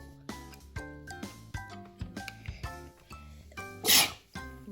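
One sharp, close sneeze bursts out near the end, over a backdrop of repeated clicking, rattling toy-like noises and tonal plinks.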